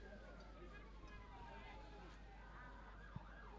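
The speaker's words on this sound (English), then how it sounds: "You might be able to hear the sirens there." Distant emergency sirens wail with rising and falling tones under a crowd murmur and talking voices at a women's football match in Namibia, fairly faint.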